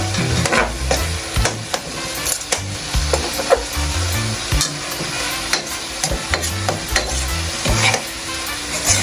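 Corned beef frying in a pan and being stirred, with a steady sizzle under repeated scraping and clattering strokes of a utensil against the pan, close and fairly loud.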